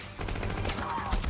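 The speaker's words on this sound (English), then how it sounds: "Oh, they're firing." Dense battlefield gunfire from a war film, a rapid continuous rattle of shots and blasts over a short stretch, loud and full.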